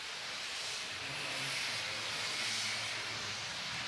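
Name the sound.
steam hissing from rum distillery wash still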